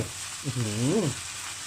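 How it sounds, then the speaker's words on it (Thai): Glass noodles stir-fried in a pan for a Thai basil noodle stir-fry give a steady, close sizzle. Midway, a brief humming vocal tone rises and falls over it. "เราก็จะผัดไม่นานนะพี่น้อง เอาพอวุ้นเส้นนุ่ม"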